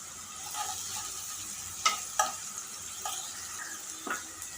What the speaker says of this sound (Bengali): পেঁয়াজটা দিয়ে আমি ব্রাউন কালার করে ভেজে নিব আর এখন হচ্ছে দিয়ে দিচ্ছি আমি বাটা রসুন